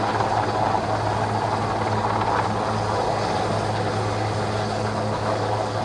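Steady, loud helicopter rotor drone with a low, constant engine hum, continuous throughout with no talking, during an Indian Navy display in Vijayawada as Marine Commandos attach to a hook beneath the helicopter.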